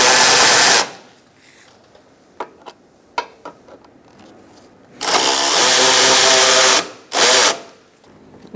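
A handheld power tool drives bolts home during a 2012-2018 Ford Focus active grille shutter replacement. It gives three loud, close whirring bursts, one short, one long and one brief, separated by quiet gaps with faint clicks and handling noises.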